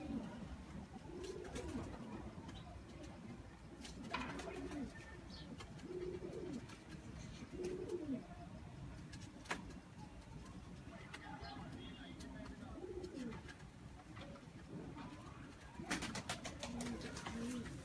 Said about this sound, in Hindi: ये अपनी नस्ल की प्योर कबूतरी है।